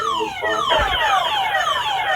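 Loud electronic alarm siren from an aosu SolarCam D1 solar security camera, a continuous wailing tone with repeated sweeping pitch glides, steady and close throughout.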